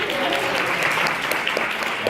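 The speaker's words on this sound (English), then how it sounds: "A round of applause for Angel as January," An audience applauds a cast member at a school play with dense, continuous clapping from many hands that stays full and even throughout, with some voices mixed in.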